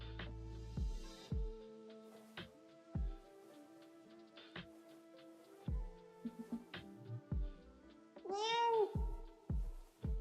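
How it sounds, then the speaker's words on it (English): A cat gives one clear, drawn-out meow late in the clip among scattered knocks and small household sounds in a quiet room. "We have an interaction with the cat."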